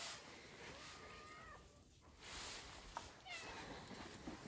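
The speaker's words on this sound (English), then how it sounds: "Almighty barn cats that still have food, but they're starving. They're telling me, huh? With all that meowing going on." Barn cats meow on a homestead farm, a few faint, separate cries scattered through a quiet outdoor background with low rustling.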